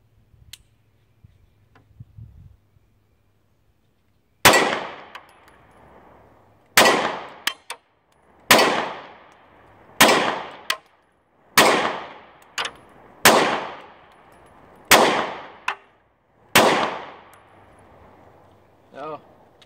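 Pistol shots from an SR9 with a 17-round magazine hit a steel target, each sharp crack followed by a bright metallic ring, fired in about eight shots with irregular pauses of one to two seconds after a quiet start.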